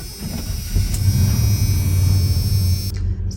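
A truck engine rumbles low and steady while the truck is backed out, a close, loud idle-like drone with a faint high whine over it that cuts off near the end.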